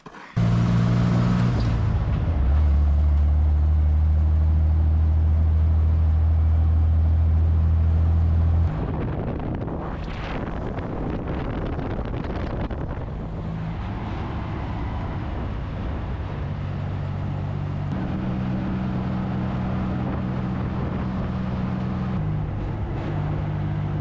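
A Willys CJ5 Jeep engine driving on the road, a loud, steady low drone with a shift in pitch partway through and road rumble, with no talking.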